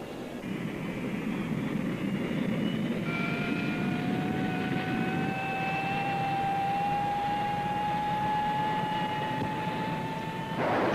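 A Grumman F-14 Tomcat fighter jet roars loudly and continuously through a catapult launch and climb, a rising engine whine climbing in pitch over a dense, broad rumble, heard alone.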